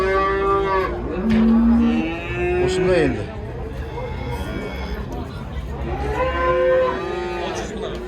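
Cattle and calves low repeatedly with long, loud moos at a livestock market in Kyzylorda, the calls rising and falling over a steady crowd hubbub as people talk nearby.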